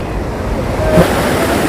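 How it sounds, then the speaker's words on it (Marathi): A large waterfall at Paleshwar pours heavily ahead, giving a constant loud, broad roar of falling and splashing water, with wind buffeting the microphone and a brief swell in the middle. "हा नजारा बघा मित्रांनो समोर भरपूर पाणी पडत आहे"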